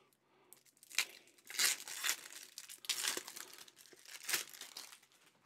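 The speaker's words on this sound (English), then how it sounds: "So I am just going to use a hobby knife to cut these open." A hobby knife slices open plastic-wrapped card packs for a Flick Wars tabletop wargame, giving several bursts of close crinkling and tearing plastic with short quiet gaps between them.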